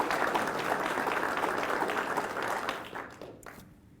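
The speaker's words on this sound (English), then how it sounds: "If we can get a round of applause for them as well." An audience at a law enforcement academy graduation gives a round of applause. Dense clapping holds steady, then fades out over the final second.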